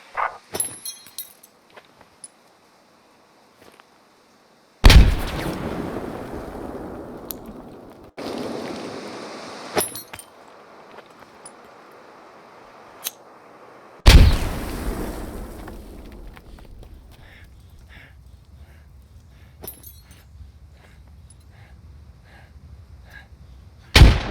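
Hand grenades going off in a squad-based war video game, several loud explosive blasts each followed by a long rumbling, debris-filled decay, separated by short pauses and a near-silent stretch at the start.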